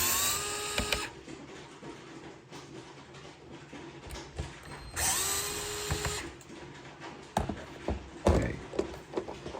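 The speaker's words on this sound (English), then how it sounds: "We're gonna undo these two screws and then hopefully easily remove the paddles." A power screwdriver or drill undoing screws on Porsche 992 GT3 shift paddles whirs in two short bursts of about a second each, separated by clicks and handling noises of the work close at hand.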